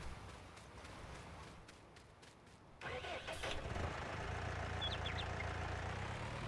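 A tractor engine in Farming Simulator 19 turns over and settles into a steady mid-pitched idle hum, close and continuous after a quiet opening.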